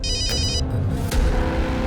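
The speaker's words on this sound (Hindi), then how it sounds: "मोबाईलची रिंग वाजते" A mobile phone rings with a bright, repeating electronic tone over a background hum, then breaks off.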